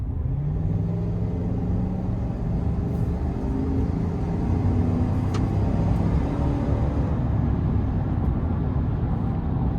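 A 2026 Chevrolet Silverado 1500 RST pickup with a 5.3-litre V8 accelerates from inside the cab, a steady heavy low engine drone with rising harmonic tones under road rumble, no talking.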